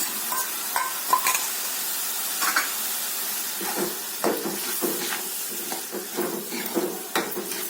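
Tomato juice and puree fry with onion paste in a pan for a kofta curry, a continuous bubbling sizzle with intermittent scraping stirs, close up and without voices.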